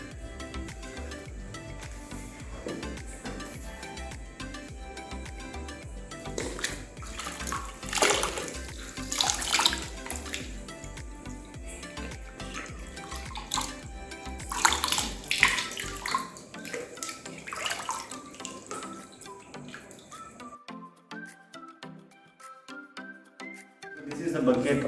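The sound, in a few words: human hair dipped and washed in plain water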